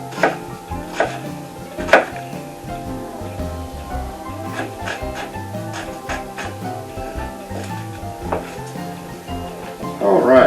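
A knife chops bell peppers on a cutting board in a home kitchen, with a steady run of close, crisp knocks and a few sharper strikes, over a low background hum.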